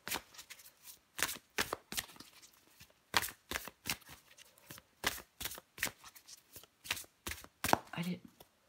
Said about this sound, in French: Allez, je prends encore une carte pour vous.